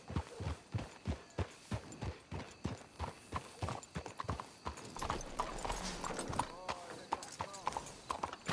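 Horses' hooves clip-clop in a steady walking and trotting rhythm on a trail in Red Dead Redemption II, close and distinct, with a brief whinny and people talking quietly over the hoofbeats in the second half.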